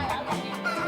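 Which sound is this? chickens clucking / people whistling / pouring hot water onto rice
chickens clucking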